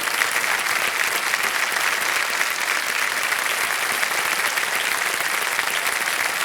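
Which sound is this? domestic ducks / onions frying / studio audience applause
studio audience applause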